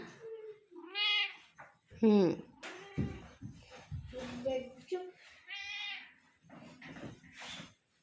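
A cat meows several times up close, plaintive rising cries alternating with a person talking softly nearby.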